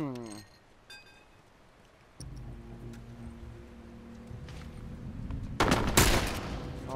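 Gunfire in The Last of Us Remastered during a bandit fight, a rapid burst of sharp loud shots near the end after quieter game ambience, with a voice talking over parts of it.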